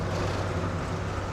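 A car engine fitted with Weber 40 IDF dual carburetors cruises at about 2,500–3,000 RPM. It gives a steady, dense droning roar with road noise and no break in the sound.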